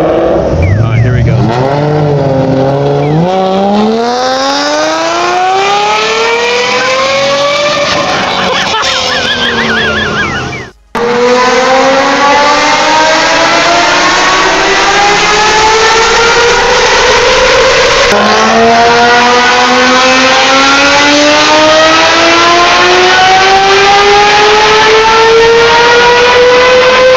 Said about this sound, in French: Ce projet fou a été réalisé par des passionnés pour marier le luxe de Mercedes avec la fureur d'un moteur de F1.